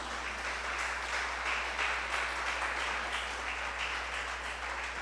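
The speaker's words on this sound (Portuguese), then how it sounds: "Se você concorda com isso, aplauda a Jesus." A church congregation applauds during a sermon, the clapping faint and distant and blending into a steady wash over a low background hum.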